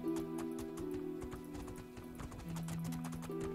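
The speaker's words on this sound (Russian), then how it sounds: "Погнали, лошадка." Horse hooves clip-clop steadily in the video game Two Worlds II, with game music tones sustained underneath at moderate level throughout.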